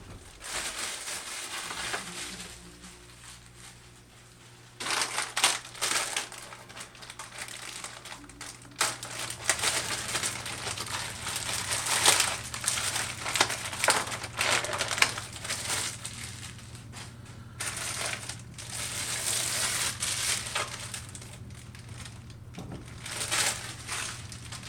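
An Aiyima S07 sound bar being unwrapped from its packaging, with steady close crinkling and crushing of plastic and paper that keeps going in bursts, louder after the first few seconds, with no one talking.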